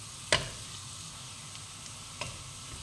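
Minced garlic sizzles softly in butter in a pan, a quiet continuous crackle broken by two sharp spatula scrapes as it is stirred.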